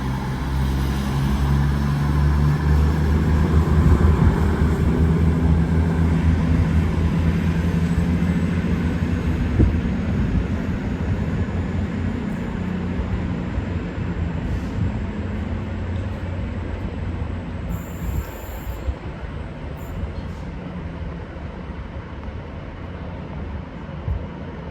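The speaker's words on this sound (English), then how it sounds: "Train now departing is a 220 going to Bristol." A Class 220 diesel multiple unit pulls out of Stockport station bound for Bristol, its engines giving a loud, steady low rumble and hum that gradually eases over about twenty-five seconds, with faint higher whines and squeals near the end.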